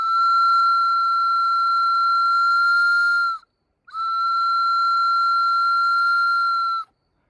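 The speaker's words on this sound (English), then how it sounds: "So essentially this should be my whistle." A handmade whistle gives two long, steady, piercing tones, each about three seconds, with a short gap between them. It is loud and close, with no other sound.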